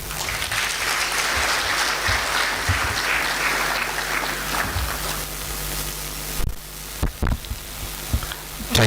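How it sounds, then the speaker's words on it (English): Applause from an audience at an army headquarters event, a dense, steady clatter of clapping that carries on for several seconds and then breaks up into a few scattered claps near the end. "May I respectfully request that we appreciate our resource person with another resounding round of applause."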